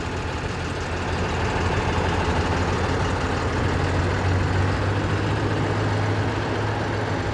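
Tata Signa 2823.K BS-6 tipper truck diesel engine running loud and steady close by, a deep low drone with a slight rise in pitch partway through as it is revved while the tipper body lifts.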